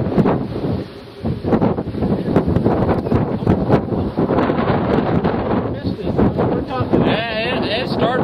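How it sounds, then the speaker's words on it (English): Heavy wind buffets the microphone during a tornado storm chase in Kansas near Quinter and WaKeeney, a loud sustained roar with people talking over it. "Still the wind."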